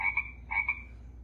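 A GeoSafari Jr. talking microscope toy plays a recorded frog croak, two short bursts of croaking close and clear, each a quick double call, with nothing else heard.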